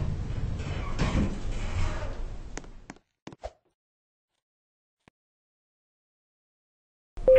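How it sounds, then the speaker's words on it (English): Lift doors slide shut in a Roblox elevator game: a rumbling slide of a couple of seconds ending in a few sharp thuds, then near silence and a short tone. "Doors closing."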